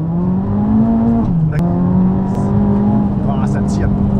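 A car with a homemade ceramic-fabric wrap on its exhaust manifold drives along, its engine drone steady with a brief pitch dip mid-way, while someone talks over it.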